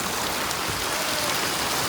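Steady rain patters on an umbrella, a dense, even hiss of drops close by and alone, without speech, holding constant for the whole stretch.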